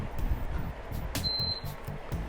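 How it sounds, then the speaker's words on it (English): A Bluetooth Mi TV remote gives one short, high, clean beep as it pairs, heard clearly over a steady low hum of background noise. "press the Mi button and the Android button together till you hear a beep sound"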